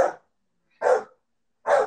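Dogs bark close by in three sharp, separate woofs spaced nearly a second apart, with silence between each bark.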